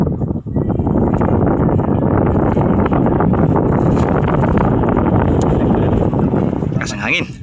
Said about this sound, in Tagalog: Malakas yung hangin, mga kaibigan.